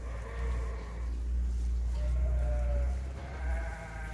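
Sheep and ewes with lambs at a morning farm pen bleat repeatedly in overlapping calls, some near and some farther off, over a steady low rumble of background noise.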